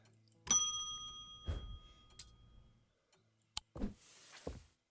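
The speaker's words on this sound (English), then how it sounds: "I hit the bell by accident." A bell in the video game Strange Antiquities rings with a bright metallic strike that rings on and decays, followed by a few softer thuds and clicks.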